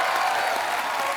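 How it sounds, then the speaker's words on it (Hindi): Studio audience applause on a Hindi comedy show, a steady dense wash of clapping filling the short moment without pause. "सोनू सूद के लिए एक बार जोरदार तालियां।"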